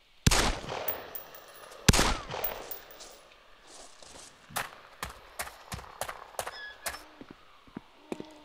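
Gunshots in the survival game DayZ on Lingor Island: two loud, close blasts followed by a run of sharper, more distant single shots at irregular intervals, with quiet gaps between.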